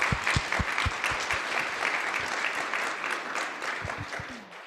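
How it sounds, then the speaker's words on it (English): An audience claps at a community leader symposium, a sustained bed of applause with scattered sharp, close hand claps and low thumps punctuating it throughout. "One more round of applause for food systems"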